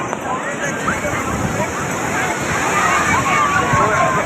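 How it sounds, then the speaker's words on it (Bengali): Sea waves break and wash along the beach at Puri, a constant loud roaring rush close by, with a murmur of voices from the crowd mixed underneath. "এই ঢেউয়ের তীব্রতা দেখুন"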